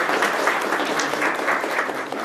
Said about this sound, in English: let's give our whole panel a round of applause